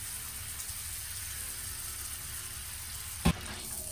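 Butter melting in a pan for a tarte tatin gives a steady, soft sizzle, with one brief sharp clatter near the end.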